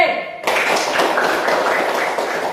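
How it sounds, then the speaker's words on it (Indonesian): A classroom group of students bursts into applause for a presenting team, many hands clapping steadily and close after a brief spoken cue. "Ya, beri tepuk tangan kepada kelompok C"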